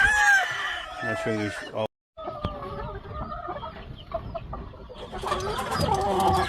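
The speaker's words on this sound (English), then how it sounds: "They're not real tall chickens, but that's how they are." Cardinal Club Kelso gamefowl chickens on a Hawaii farm cluck and crow close by, with a loud crow at the start, more calls after a short gap and another crow near the end, while someone speaks briefly.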